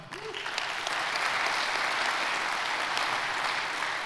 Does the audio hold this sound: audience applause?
yes